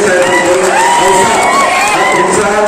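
A large crowd at a Shiv Sena political rally in Maharashtra cheers and shouts loudly and continuously, many voices blending into one dense roar for a few seconds.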